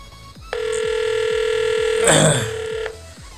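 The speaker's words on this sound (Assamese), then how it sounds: "এনেকুৱা এটা নম্বৰৰ ফোন আহিব" A phone rings with an incoming call from a fake number, giving a steady electronic ringtone that sounds loud and close for about two seconds. A brief burst of noise breaks in near the end, and a faint rhythmic ticking continues underneath.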